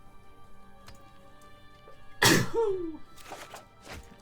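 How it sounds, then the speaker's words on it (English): One loud, sharp sneeze from a person close by during a Magic: The Gathering Arena game session, bursting out of a quiet room and trailing into a few soft breaths. "Oh, I sneezed."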